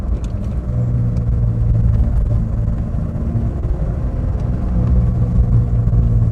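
Engine of a 1983 Toyota Starlet KP61, rear-wheel drive, at about 80 km/h in fourth gear, a steady loud droning rumble with road noise, continuous and unbroken, no voices.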